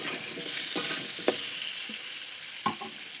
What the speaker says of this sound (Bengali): একটু ভাজা ভাজা করে দেবো আলুগুলো